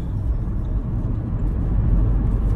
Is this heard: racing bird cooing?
no